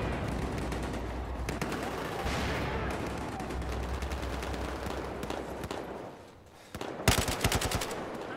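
Machine gun fire from an LSAT light machine gun in Battlefield 4 multiplayer: sustained rapid bursts of gunfire over dense battlefield noise, ending in a sharp close volley.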